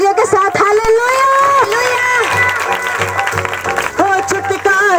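A church congregation at a Sunday healing service claps and cheers over an amplified singing or speaking voice, the applause forming a busy rhythmic patter beneath the louder voice.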